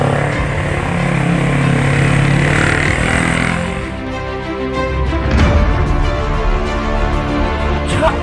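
A motorcycle engine drones loudly and steadily nearby, its pitch shifting as it revs and settles.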